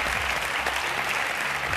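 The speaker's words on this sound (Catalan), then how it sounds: "Un fort aplaudiment, si us plau" Brief burst of studio audience applause on a television game show, dense even clapping throughout with a faint low hum underneath.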